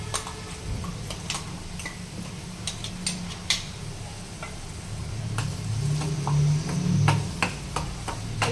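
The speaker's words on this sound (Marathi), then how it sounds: "ते तेलामध्ये तेल सुटोपर्यंत परतून घेते" Ground coconut paste sautéed in oil for a spicy black pea usal, a soft sizzle broken by sharp ticks and scrapes of a spoon stirring against the pan, moderately close.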